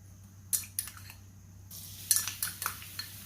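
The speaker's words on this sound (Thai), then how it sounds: "ตั้งกระทะใส่น้ำมันรำข้าวลงไปนะคะ" A wok is set down on a stove and rice bran oil is poured in, giving a few close metallic clanks and scrapes followed by a soft trickle and clatter of pan handling, with no talk.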